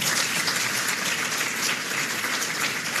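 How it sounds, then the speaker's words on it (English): Sustained applause from an audience at a Republican lawyers' gathering, a dense wash of many hands clapping that holds steady and loud from start to finish. "I think that's worth a round of applause."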